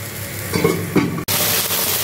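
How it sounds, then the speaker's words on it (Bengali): Ginger, green chili and cumin paste fries in a pan, a close steady sizzle with a couple of stirring scrapes, then a sharp brief break before the frying continues, with no talking. "আদা, কাঁচা লঙ্কা আর জিরের যে পেস্টটা করে রেখেছি সেটাকে দিয়ে দেবো। এটাকে একটু ঢাকা দিয়ে কষিয়ে নেব।"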